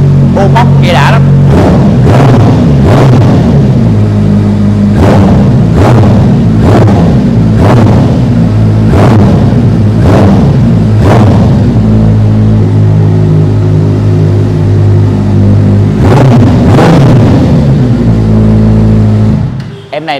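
A 2016 motorcycle with an aftermarket exhaust and original paint revs repeatedly, a deep loud idle punctuated by about a dozen sharp throttle blips at a fairly regular rhythm, close to the microphone with no talking.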